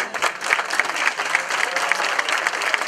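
A crowd at an evening blues party concert applauds loudly and close by, a lively, steady clatter of many hands with recurring bursts of emphasis throughout.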